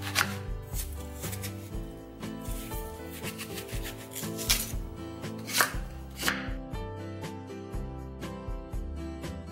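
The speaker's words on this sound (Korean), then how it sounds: "양념 재료도 갈기 좋게 썰어 주겠습니다." A knife chops seasoning ingredients for green onion kimchi, such as apple, onion and garlic, on a cutting board: close, crisp chops in a quick, uneven rhythm, with no talk.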